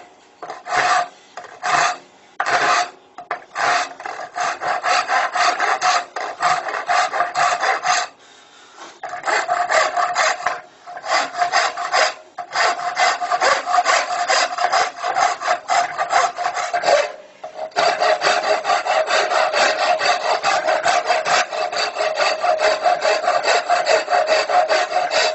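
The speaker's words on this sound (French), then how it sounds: "Et ensuite je vais arrondir mon tenant." A woodworker rasps a wooden tenon to round it, producing loud, close, coarse rasping strokes in quick repeated rhythm with a few brief pauses, continuous for about twenty-five seconds with no talking.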